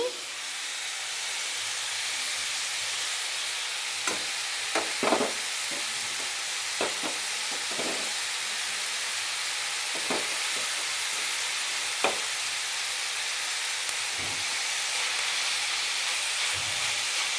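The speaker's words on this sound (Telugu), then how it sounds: "ఇది పచ్చి వాసన పోయేంత వరకు మనము ఫ్రై చేసుకోవాలి" Whole spices and masala frying in oil in a pan for leafy greens rice, a steady loud sizzle and hiss throughout with occasional soft scrapes of a spoon stirring.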